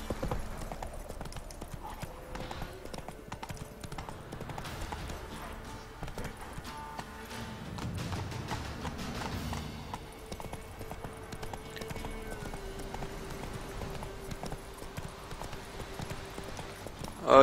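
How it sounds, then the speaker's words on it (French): A horse in The Witcher 3 gallops across a bridge in the game, its steady, rhythmic hoofbeats carrying on through most of the stretch under quiet background ambience. "Le cheval va-t-il réussir à prendre le pont?"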